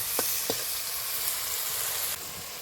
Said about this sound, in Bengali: পেঁয়াজটা পুরো বাদামি কালার করে ভেজে নেব